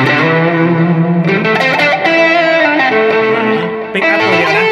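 A Kazuki BABY1 30-inch electric guitar with a single pickup, heavy effects and distortion, loud sustained chords and notes ringing out close up through a microphone, played alone without talk.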